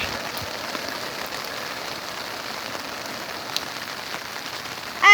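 Steady rain pours onto pavement during a wet skateboarding session, a dense, even hiss that runs throughout, with a brief louder knock right at the end.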